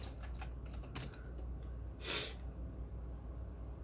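Computer keyboard keys tap in short, irregular bursts, quiet and close, over a steady background hum, with one brief louder breathy noise partway through.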